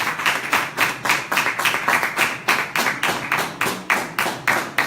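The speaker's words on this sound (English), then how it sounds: "Let's give the Lord a round of applause." A church congregation claps together in a quick, steady rhythm of sharp hand claps, loud and close, with no speech.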